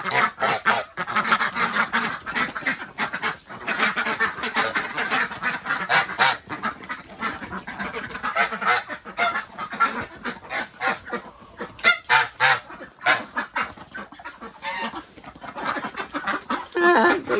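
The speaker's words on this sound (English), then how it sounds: "Now, Lucy, don't be a greedy goose" Several geese honk and cackle close by in a busy, overlapping chorus while being fed cucumber, with little pause between calls.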